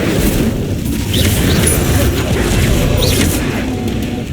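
An Incendio fire spell is cast in Hogwarts Legacy, giving loud, dense rumbling bursts and whooshing impacts with a few brief whistling flares. The sound is steady and close for several seconds.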